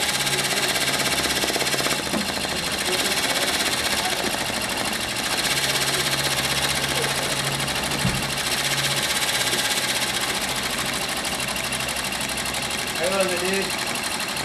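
A Tajima embroidery machine stitches a design onto a cap with a fast, steady rattling hum and rapid needle chatter, running continuously and loud while a person talks over it.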